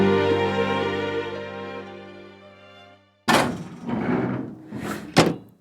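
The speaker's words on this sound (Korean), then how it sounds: "문득 급거히 대문을 닫힌다." A front gate door is shut abruptly in a sharp, hard thunk after a fading sustained tone, followed by a short burst of rattling knocks and bumps that ends in a second sharp hit.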